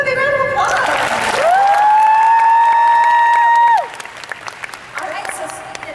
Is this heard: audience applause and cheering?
yes